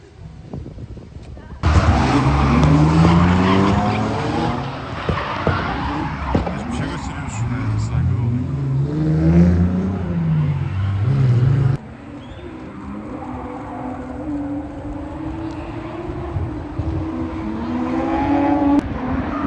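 Loud drift car engines rev and roar close by at a professional drift event in Riga, with rising and falling pitch and tire noise, while people talk underneath.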